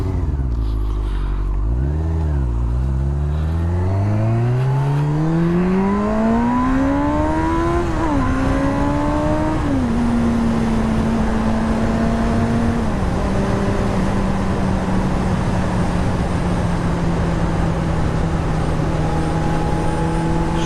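A 1999 Kawasaki ZX6R motorcycle being ridden, its engine loud and close as it revs up through rising pitch, shifts, then settles into a steady cruising drone over constant wind roar.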